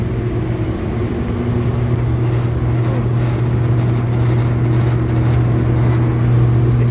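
A condenser fan motor on a frozen food rack running after a bump start, giving a steady, fairly loud low hum and whir that holds even throughout with no voices.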